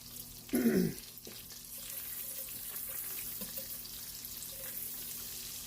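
Turkey bacon strips frying in a pan during Sunday dinner cooking, a faint steady sizzle running under the scene after a short loud burst of rushing noise near the start, with no talking.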